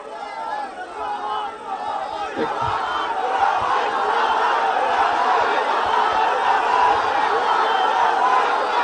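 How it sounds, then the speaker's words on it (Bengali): Crowd at an outdoor canal excavation inauguration event in Sylhet, many voices shouting and chanting slogans in a dense continuous roar that swells and holds loud throughout. "স্লোগান দিলে কথা শুনতে পাবো না তো"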